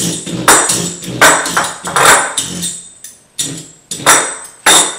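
Rolled-out tart dough, about 2 mm thick, is pricked with a fork on a hard surface, giving about ten quick sharp taps in an irregular rhythm, close and fairly loud, with no talking.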